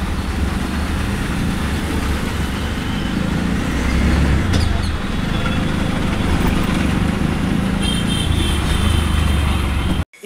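Riding in an auto rickshaw through city traffic near Secunderabad railway station: a continuous loud engine drone and road rumble, steady throughout and heard from inside the vehicle, with no talk.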